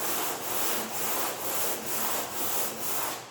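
Hand sanding of primer on a Dodge Dart car body with 120-grit paper, a loud rhythmic scrubbing of about seven even back-and-forth strokes, close up and with no voices.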